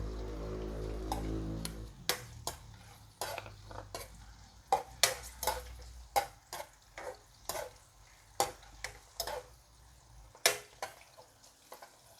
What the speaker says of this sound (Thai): ไก่ใส่ลงไปผัดนะคะ